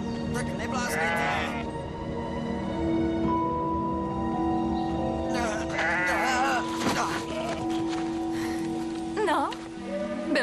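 Sheep bleating in a flock, several wavering bleats in bursts across the scene, close and clear over a steady background patter like rain, with people speaking in between.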